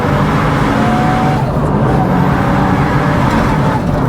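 Mitsubishi Evo 9 engine pulling hard at full throttle in third gear, a loud, steady broadband roar that fills all four seconds without a break, heard from close up inside or near the car.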